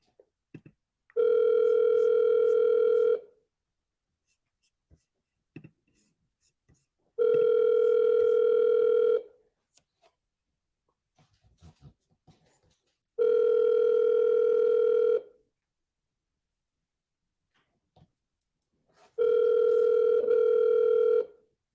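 A telephone rings out four times in a slow, even cadence while a seller is called, each tone about two seconds long with long silent gaps between. Faint background clicks fall in the pauses.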